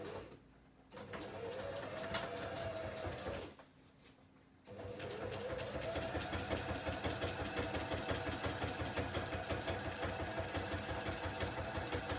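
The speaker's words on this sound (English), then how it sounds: "I'll just go and quickly put this in my sewing machine," A sewing machine stitching an envelope-style notebook runs in a steady, fast mechanical patter, pausing twice briefly before resuming, close and fairly quiet with no talking.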